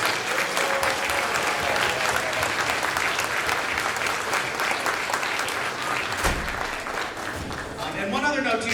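A crowd applauds elementary students and teachers at a school winter band concert, clapping steadily and loudly without a break for several seconds before tapering slightly near the end.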